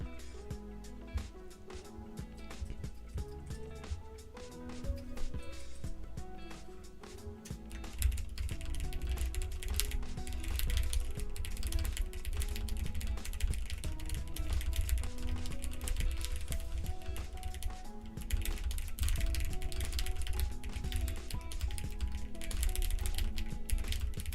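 Rapid, close keystrokes clatter on a computer keyboard in dense bursts during a live racing session, with a continuous low hum running underneath throughout.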